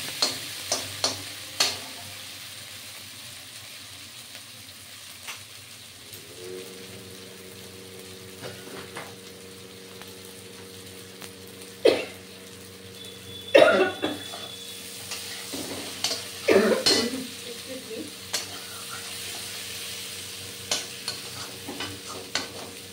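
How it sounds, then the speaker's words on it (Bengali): Potatoes and eggplant frying in spiced oil for a pabda fish curry, a steady close sizzle with a low hum, repeated spatula scrapes and clatters against the pan, and a brief burst of louder stirring. "এটা আলু বেগুন দিয়ে সুন্দর করে ভাজা হবে।"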